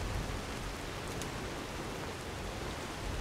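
Rain falling in the video game Skyrim makes a steady, even hiss of dense downpour, continuous and moderately loud with no voices.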